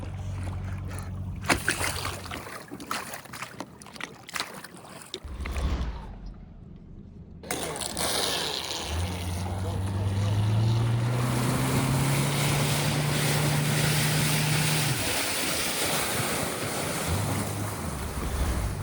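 A small electric model boat on a lake hums steadily with a rising whine, water splashing and wind buffeting the microphone, after a brief quiet gap.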